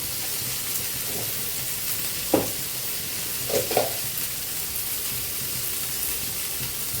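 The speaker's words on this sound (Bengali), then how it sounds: "আলুটা দিয়ে একটু ভাজিয়ে দিতে দিই" Three chopped potatoes fry in a pan for a Bengali fish-head and pointed gourd dish, giving a steady close sizzle with a few brief scraping stirs.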